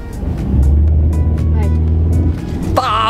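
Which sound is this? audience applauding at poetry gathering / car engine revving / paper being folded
car engine revving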